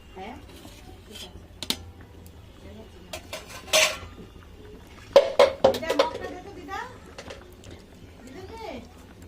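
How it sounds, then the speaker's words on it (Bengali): Metal lid lifted off a cooking pot of meat curry, a few clanks and clinks of metal against metal, close and sharp, between stretches of quiet room noise. "এবার আমি ঢাকনাটা খুলবো"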